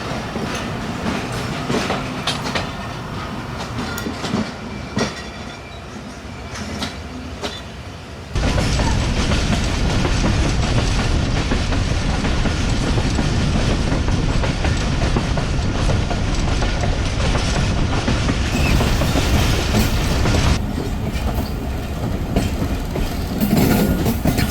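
A passenger train rolls through a small station, heard from inside a carriage near the end of the train, with a steady loud rumble and rhythmic clickety-clack of wheels that swells sharply partway through and stays heavy.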